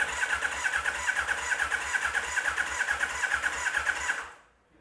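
A Yamaha XJR 1300 motorcycle starter motor cranks the engine in a rapid, steady chugging rhythm for about four seconds before stopping, fairly quiet and unbroken.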